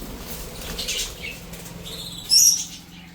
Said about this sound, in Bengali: ওই যে কোয়েল পাখিগুলো রয়েছে।